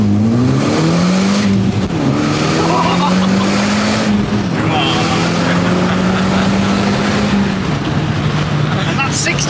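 A stage 1 remapped Audi S3 accelerating hard up to 60 mph, heard from inside the car: a loud, steady engine roar rising in pitch through the gears with a brief dip at a shift, while people talk over it.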